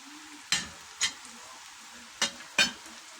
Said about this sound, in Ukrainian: Майже підсмажилась цибулька, додаю баклажанчики.